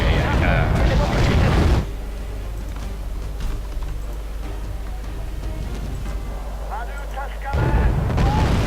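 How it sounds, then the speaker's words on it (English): Rapid artillery fire in Wargame AirLand Battle, with dense, loud booming barrages crashing in at the start and again near the end, and a quieter, low mechanical hum in between. "I'm being shelled with this incredibly fast fire"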